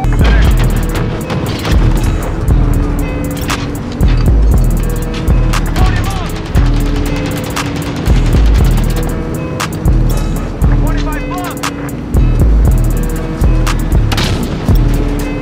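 Heavy cannon and gun bursts from an aerial gunship in a Call of Duty match, loud and repeated booms in a steady pounding rhythm over dense game effects, with a voice speaking over the firing.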